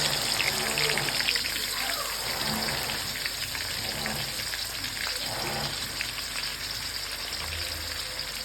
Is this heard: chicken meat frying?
yes